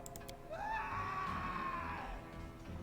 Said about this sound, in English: Oh, that's a scream.